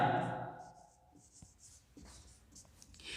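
Pen scratching out a Class 12 maths solution, soft close strokes and taps following someone speaking Hindi at the start.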